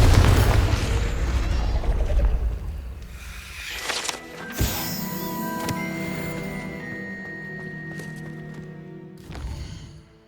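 A Confringo fire spell explosion in Hogwarts Legacy, opening with a loud, heavy boom whose rumble decays over several seconds into ringing, shimmering tones and a few smaller pops.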